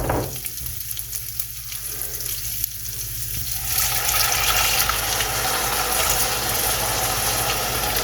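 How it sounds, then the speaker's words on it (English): Broth poured into a hot pan a cup at a time and stirred, a soft liquid wash giving way to a loud steady sizzle and hiss that fills the rest of the clip. "we're gonna add the broth, 1 cup at a time, and stir until it's absorbed"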